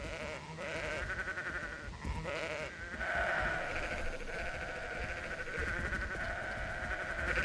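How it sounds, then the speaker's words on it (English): Sheep in the Sudeki video game's herding mini game bleat repeatedly, several overlapping nasal calls in quick succession over a continuous game background. "basically what you want to do is you want to group up all the sheep."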